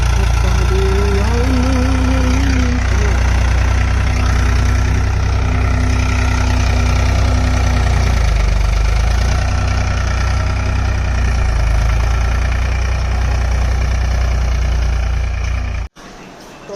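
A tractor engine idles close by with a steady, loud low drone and a faint whine early on, running throughout before cutting out abruptly near the end.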